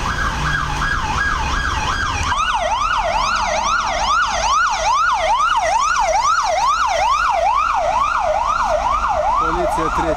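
A police car siren wails in a steady repeating up-and-down pattern, loud and continuous as it passes along a street in Romania, with traffic noise underneath and no talk.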